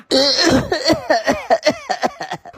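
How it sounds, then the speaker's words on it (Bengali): A person coughs and clears their throat in a rapid loud series of about a dozen harsh, close bursts that trail off into shorter hacks. "আপনার কাশিটা ঠিক হইলো না"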